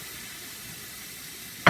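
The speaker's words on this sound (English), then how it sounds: "a little sizzle." Ground beef sizzling in a cast iron skillet, a steady broad hiss throughout that swells into a louder crackling burst near the end.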